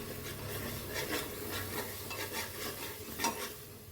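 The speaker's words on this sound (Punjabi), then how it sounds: "ਆਪਾਂ ਇਸ ਨੂੰ ਪ੍ਰੋਪਰ ਤਰੀਕੇ ਦੇ ਨਾਲ ਹਿਲਾ ਦੇਵਾਂਗੇ ਤਾਂ ਜੋ ਸਾਡਾ ਮਸਾਲਾ" Masala being stirred in a pan for aloo matar curry, a steady scraping and rubbing of spoon against metal with faint sizzling underneath, continuous and close with no talk.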